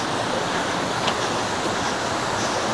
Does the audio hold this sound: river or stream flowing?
yes